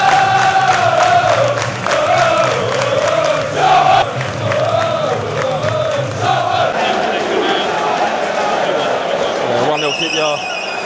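Football supporters packed into an elevated away stand at a QPR vs Charlton London derby roar and chant together, a loud, rhythmic mass of voices rising and falling, with a sharper burst of shouting near the end.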